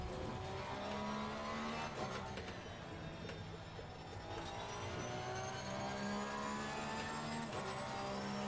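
Simulated GT race car in Assetto Corsa Competizione powering through a corner, a steady engine drone with shifting harmonic pitch lines held for several seconds, loud and continuous without speech.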